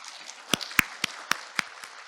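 At a workplace innovation forum, an audience gives the five panel discussion members a thin round of applause: a handful of sharp, separate claps about a quarter second apart over quiet room tone.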